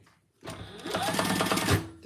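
A sewing machine basts a few stitches across the bottom of a sassy crossbody bag, holding triangular rings in place: a steady, close mechanical whir that starts after a brief pause and runs evenly to the end.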